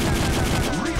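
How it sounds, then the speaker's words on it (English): Rapid gunfire from the Time Crisis arcade shooter, running on a PS1 emulator, comes as a dense, loud burst of overlapping shots across one second. "I'm shooting at this guy."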